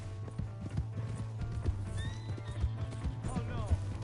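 A horse in the video game Red Dead Redemption 2 clip-clops along at a gallop with rhythmic hoofbeats and lets out a shrill neigh near the end, while a voice speaks over it.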